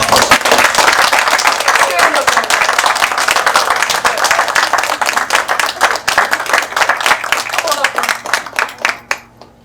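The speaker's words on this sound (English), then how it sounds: "well-deserved round of applause." An audience at an award presentation in Spearman, Texas gives a sustained round of applause. Dense, loud clapping holds steady for several seconds, then thins into scattered claps that fade away.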